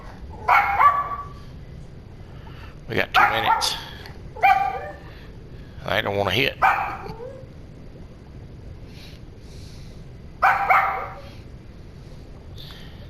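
A dog barks and whimpers indoors during a live fishing-tournament stream, several short bursts of yelps and barks spread across the clip with someone talking in between.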